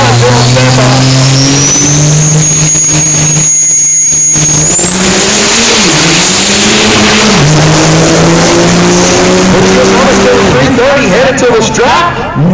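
A diesel drag racing truck in the 5.90 class of the Outlaw Diesel Super Series makes a loud, close pass, its engine note climbing and shifting as it accelerates down the strip, with a track announcer talking over it throughout.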